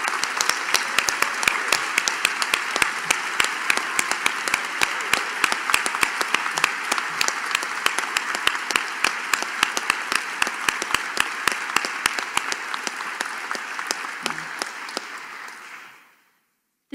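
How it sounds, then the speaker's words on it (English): Sustained applause fills a hall at a bankruptcy college induction ceremony: dense, steady clapping with sharp individual claps standing out, lasting about sixteen seconds before cutting off abruptly. "please give the inductees a big round of applause."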